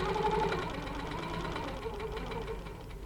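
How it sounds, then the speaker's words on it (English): Longarm quilting machine stitching across a boat quilt guided by a ruler, a steady mechanical hum with rapid needle pulses, moderately faint and continuous throughout. "I'm going to stitch all the way across"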